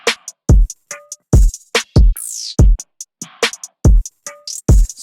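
Trap-style hip hop beat from a K-pop producer, with sharp, punchy kicks and snappy percussive hits in a quick, stuttering rhythm, occasional rising sweeps and short tonal stabs, loud and dry with no voices.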